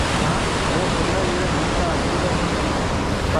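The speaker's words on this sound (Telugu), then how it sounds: "వాటర్ ఫాల్ దగ్గర కిందికి దిగినాం బ్రిడ్జ్ నుంచి అయితే." A waterfall near a bridge in the Himalayas on the route to Kedarnath gives a dense, continuous roar of falling water, loud and close, with no break and no one talking.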